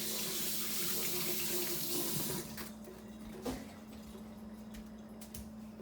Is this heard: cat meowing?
no